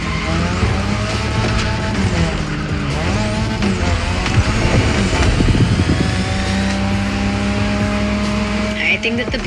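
Drift cars in The Crew Motorfest slide with loud, sustained tire skidding and squeal over roaring engines, continuous throughout with constant engine drone and bursts of revving.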